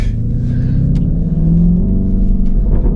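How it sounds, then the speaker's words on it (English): Lamborghini Urus Performante V8 fitted with an Akrapovic exhaust, giving a deep, steady rumbling idle with a slight rev swell midway, close and loud with no talking. "This obviously got Performante exhaust on it."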